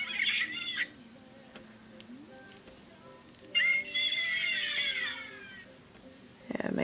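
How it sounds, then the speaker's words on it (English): An Angry Birds plush toy plays short electronic bird-like squawks and chirps in two bright bursts, with quieter gaps between them. "This one makes 3 noises of the Angry Birds."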